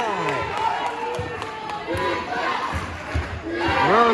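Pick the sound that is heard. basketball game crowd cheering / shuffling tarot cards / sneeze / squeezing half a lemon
basketball game crowd cheering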